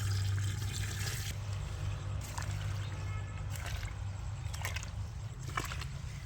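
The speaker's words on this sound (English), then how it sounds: "add water to the bucket until it is nearly full" Water pours steadily into a bucket of organic matter for homemade liquid fertilizer, a continuous close splashing rush with a low hum underneath and a few brighter splashes.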